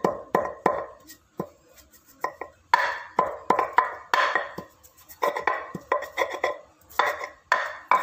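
Dried shrimp (ebi) being pounded fine by hand for a noodle soup, heard as irregular clusters of close, sharp knocks and scraping taps with short pauses between bursts.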